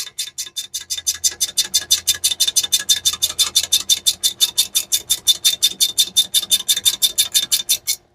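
Ratchet wrench backing a long 10 mm bolt out of a turbo bracket on a budget turbo Mustang, a close, steady rapid clicking of about five ratchet strokes per second that runs throughout without pause.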